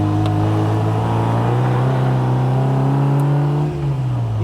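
A 1960 Bugeye Sprite with its little 948 engine accelerates steadily and close by, a loud continuous drone whose pitch climbs and holds, dipping briefly near the end.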